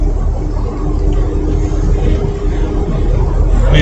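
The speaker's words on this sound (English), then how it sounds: "The truck seems to be running a whole lot nicer." Pickup truck with new spark plugs driving, a steady low engine drone and rumble heard loud from inside the cab, continuous with no talk.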